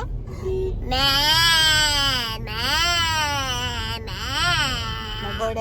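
A person imitates a goat with two long, wavering bleats, loud and close, each rising and falling in pitch.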